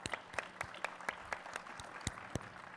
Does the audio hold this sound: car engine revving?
no